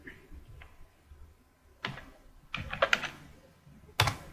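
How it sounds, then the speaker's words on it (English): A few separate keystrokes and short clicks on a computer keyboard while a command is entered, sparse and irregular, fairly close and quiet, with no speech. "Type this command to run your project."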